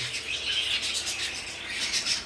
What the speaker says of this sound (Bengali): এটা হলো লুটিনো কোকাটেল